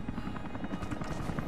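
Helicopter in Rise of the Tomb Raider, a loud, steady rotor chop that dominates throughout with a dense, continuous beating drone.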